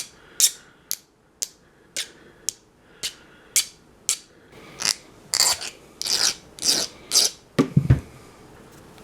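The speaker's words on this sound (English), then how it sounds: "Now I just want to file the edge down and chamfer it so it'll start." A hand file rasps rhythmically across the edge of a threaded part, chamfering it on a washer bottle repair for a 1994 Saab 9000: about a dozen close, regular scraping strokes that grow longer and heavier toward the end, with no talking.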